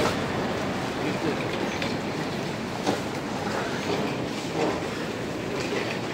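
A Delhi Metro train pulling into New Delhi station, heard from inside the carriage as a steady, loud rumble of wheels on rails with muffled voices faintly in the background.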